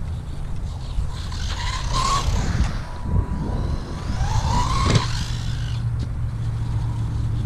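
A WLToys 124019 RC car drives and jumps, its whining electric motor rising and falling in two surges with steady close-up buzzing and rumble throughout.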